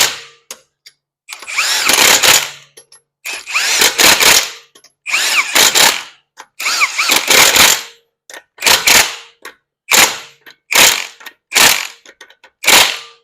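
A power tool drives lug nuts on a 2020 Toyota Camry wheel in a star pattern: repeated loud, close bursts of rattling impact, each about a second long, separated by short silences.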